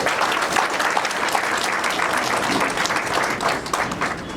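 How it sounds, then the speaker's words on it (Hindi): Audience applause after a poetry recitation at a literary gathering, loud sustained clapping from a crowd, dense and even from start to finish. "एक बार जोरदार तालियां बजा दीजिए।"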